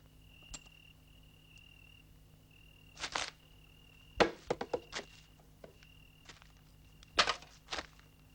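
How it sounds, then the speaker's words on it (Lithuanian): Cicadas at night give a steady, thin insect drone throughout, broken by a few loud, close footsteps and knocks. No one speaks. "Slyšíte ty cikády? Girdite cikadų garsus?"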